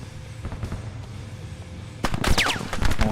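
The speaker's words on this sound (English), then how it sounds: "we're taking machine gun fire" A 50 cal machine gun in Arma 3 firing at a distance, sharp shots at first, then louder, closer bursts of rapid fire with ricochet-like whines in the second half.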